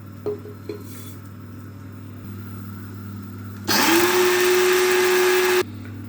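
A grinder or blender spins up loud and steady, blending hemp and niger seeds into homemade bird food. It roars alone for about two seconds after a quieter hum, then cuts off abruptly.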